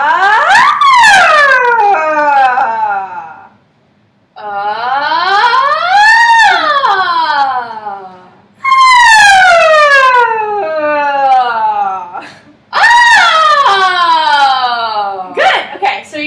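A brass mouthpiece buzzes a siren imitation in four loud, separate sweeps, each gliding up and back down in pitch, with brief silences between them.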